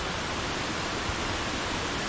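Waterfall cascading at Khlong Lan in the rain: a dense, steady rush of falling water with no breaks or voices, constant and fairly close.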